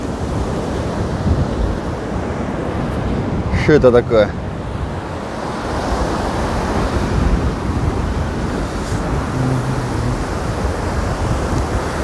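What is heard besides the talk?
stormy sea waves and wind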